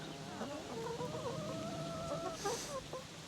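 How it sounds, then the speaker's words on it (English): Near the Ardèche river in France, a chicken clucks in a series of short rising and falling calls, moderately close, over a steady outdoor background hiss. "do they still have a chicken? Yeah, they do."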